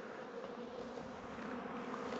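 A steady, low drone of bees buzzing inside a hollow log hive, a continuous dense hum, fairly quiet and unbroken, with no voices.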